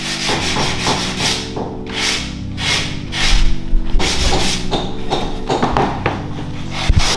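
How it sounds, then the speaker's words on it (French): Close, loud sandpaper rubs back and forth on the wooden legs of a stool in a steady rhythm of strokes, with a few light knocks mixed in. "je suis en train de poncer les pieds du tabouret"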